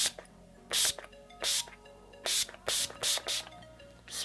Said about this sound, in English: I go in with Urban Decay's All Nighter setting spray, and I just